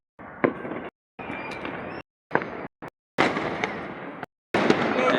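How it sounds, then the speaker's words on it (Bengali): New Year fireworks burst in rapid bursts of crackling explosions, loud and fairly close, separated by short silent gaps, with no talk over them. "সে আতশবাজি হচ্ছে নতুন বছর উপলক্ষে।"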